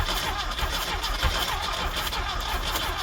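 Old Volkswagen Baja Bug hot rod engine, long stuck, cranking and firing up, running as a loud, steady mid-pitched rumble close by throughout with slight surges, no talk.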